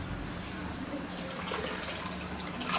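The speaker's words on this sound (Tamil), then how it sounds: "இப்போ நம்ம வந்து புளி தண்ணி சேர்த்துக்கலாம்" Tamarind water pours steadily with a continuous, hissing splash as it fills a pot for fish curry. A faint voice is heard in the background.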